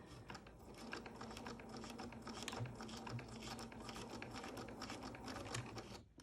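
A sewing machine stitching fabric for a comfort-fit face mask along a fold, a faint continuous mechanical chatter with rapid ticking throughout.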